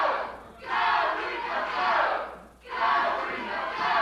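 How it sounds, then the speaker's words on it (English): A wrestling arena crowd roars and chants in two long, loud surges with a brief dip between them, full and close, with no talk over it. "Listen to the crowd."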